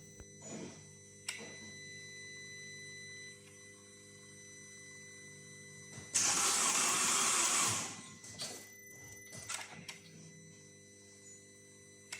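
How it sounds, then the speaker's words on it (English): A Mercedes-Benz engine cranks and catches with a loud, broadband roar lasting a couple of seconds amid a steady background hum, then settles. "I will start the engine"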